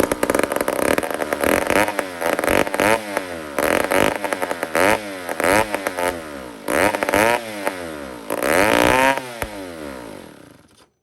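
A two-stroke chainsaw struggling with a dry carburetor, primed and firing up, runs loud and close, its engine surging and dropping in repeated revs before cutting out at the end.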